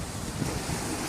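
Ocean waves wash onto a white-sand beach in a brief, close rush of surf mixed with wind buffeting the microphone.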